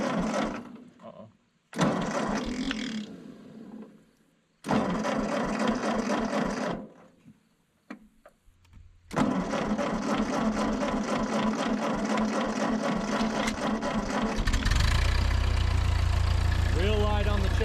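A Ford 8N tractor engine cranks in short bursts with pauses between, then catches and settles into a steady, loud idle that runs on, with people talking nearby.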